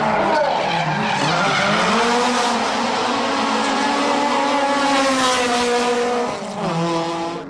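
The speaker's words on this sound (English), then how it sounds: "Team Mouse gets the award for the most raucous exhaust noise." A drift car screeches its tires at length while its raucous, loud exhaust roars and shifts pitch as the engine revs up and down close by; the sound ends with a brief dip and a renewed rev.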